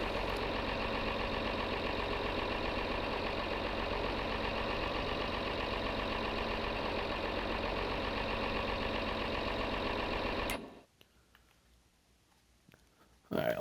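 Tractor engine idling in Farming Simulator 22, a steady, loud drone with a low rumble and a faint clicking rhythm. It runs unbroken for about ten seconds, then cuts out abruptly into near silence.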